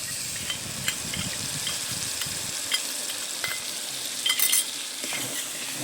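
Chilli spice paste sizzling in hot oil in a pan while being stirred for a Bengali cooking dish, a close continuous fry with light scraping and an occasional clink.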